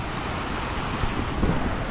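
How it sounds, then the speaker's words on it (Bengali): Rushing water at Sita Waterfalls near Ranchi during the monsoon, a dense, steady roar of flowing water that stays loud and even for the whole short stretch, with no voices. "এখন এতটাই জল, দেখুন চারিদিক দিয়ে জল কিভাবে বেরিয়ে যাচ্ছে"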